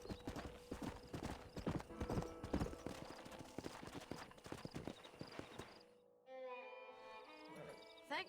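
Horse hooves clip-clop in the Red Dead Redemption video game, a rapid, uneven run of close, loud hoof strikes for about six seconds, then they stop and quieter ambient tones and a brief horse sound follow.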